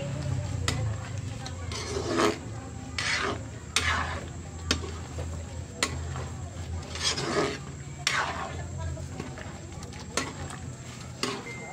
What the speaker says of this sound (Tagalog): At haluin muna natin para malusaw yung ating rino.